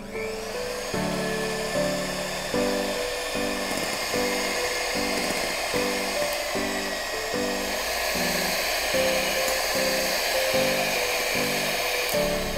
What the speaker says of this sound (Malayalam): ഇനി ഷുഗർ ചേർത്തിട്ട് ബീറ്റ് ചെയ്തെടുക്കാം